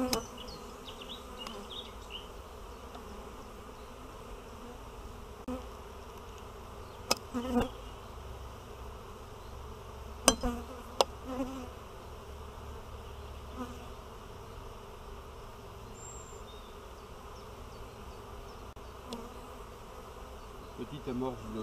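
Honeybees buzz softly and steadily around an opened frame from a hive that may be queenless, a continuous close hum with a few sharper passes of bees near the microphone.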